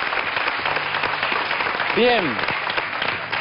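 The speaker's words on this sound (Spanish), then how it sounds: "El Día de la Banderita merece el aplauso a todos los trabajadores de Cruz Roja" Studio audience applauding Red Cross workers on a Spanish television show: continuous clapping runs throughout at a steady level, with a voice speaking over it and a short rising-falling voiced sound in the middle.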